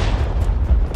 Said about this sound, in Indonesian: tiba-tiba suara ledakan keras terdengar